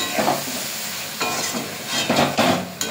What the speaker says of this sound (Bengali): অল্প একটু জল দেব, মশলাটা মিক্স করতে সুবিধা হবে।